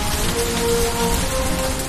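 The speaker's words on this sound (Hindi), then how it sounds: "जमकर बारिश हो रही है।" Heavy rain pours steadily onto surfaces, a dense, loud, continuous hiss with no voices.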